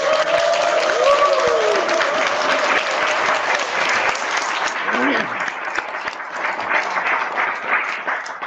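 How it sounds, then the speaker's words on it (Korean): Audience at a fifth-anniversary company year-end gathering breaks into sustained applause, dense clapping from a crowd, loud at first and easing slightly, while a voice speaks over the start. "우리 다 같이 박수로 환영하겠습니다"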